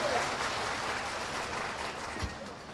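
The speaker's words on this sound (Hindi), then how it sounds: "एक बार जोरदार तालियां।" Audience applause at a bridge foundation-stone ceremony in Jamtara, heard as a steady, dense wash of clapping that holds at an even level for nearly three seconds.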